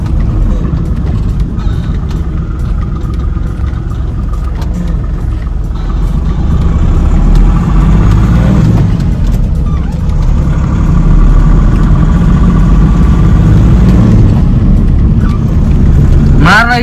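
A car engine hums low and steady while the car makes a U-turn onto a market road, its rumble swelling slightly partway through, under almost constant talking.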